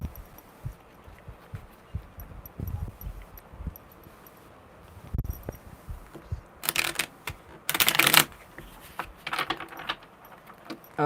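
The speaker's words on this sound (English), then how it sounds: "One more good shuffle." Tarot cards being shuffled during a live card reading, a run of crisp papery riffles and flutters that grows louder and busier toward the end after quieter soft handling, with no voices.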